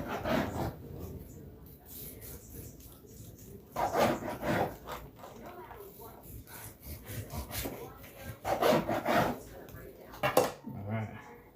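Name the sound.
knife slicing smoked brisket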